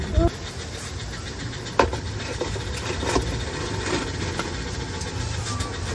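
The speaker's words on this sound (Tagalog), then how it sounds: "Kumukulo na ang ating tubig" Steady hissing and bubbling of water boiling in a steamer pot for puto, with a few clicks and clatters close by.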